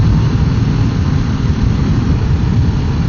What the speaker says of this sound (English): that's third gear, and I'm not particularly high in the RPM range